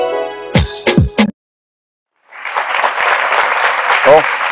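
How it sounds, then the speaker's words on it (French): A TV studio audience claps briefly after loud speech, then a short silence, then a steady dense burst of applause continues to the end, with a voice briefly over it. "On applaudit pour les besoins de l'émission"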